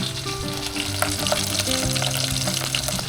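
Leftover chicken from a tinola soup, refried in a pan at home, sizzles and crackles steadily and fairly loud and close for a few seconds, with no voices, while a super typhoon rages outside.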